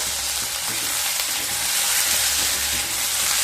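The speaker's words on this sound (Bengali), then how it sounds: "চিংড়ি মাছ দিয়ে পেঁয়াজ আর রসুনের সাথে আবারও খুব ভালোভাবে মিশিয়ে নিয়ে ভেজে নেব" Prawns frying in hot oil with onion, garlic and green chillies, a loud, steady, close sizzle with continuous hiss and no speech.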